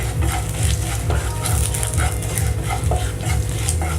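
Turmeric and coriander powder frying in oil in a pan for shahi paneer, stirred steadily with a constant close sizzle and scraping, no talk.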